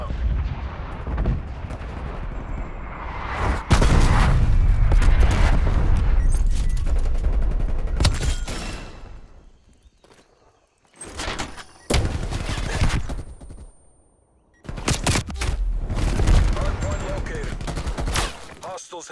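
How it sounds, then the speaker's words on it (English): Artillery strike explosions thunder in Call of Duty: Black Ops Cold War during a Hardpoint match, heavy booming blasts rolling and overlapping in loud waves, with brief quiet gaps between bursts. "Hostile artillery targeting active."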